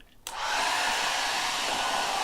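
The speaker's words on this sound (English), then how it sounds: "let's turn this hair dryer on" A hair dryer powered by a BLUETTI EB70S portable power station switches on with a sudden click and then blows with a steady, loud, broadband whoosh that holds constant to the end.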